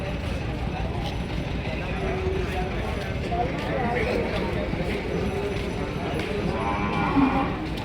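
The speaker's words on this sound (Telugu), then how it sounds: "ఎద్దులు అన్న సారీ ఎద్దు ఇట్లాగా ఉంటాయి" Buffaloes and bulls at a busy outdoor cattle market in Vikarabad, with a steady wash of crowd noise, shuffling hooves and faint animal sounds under people's talk.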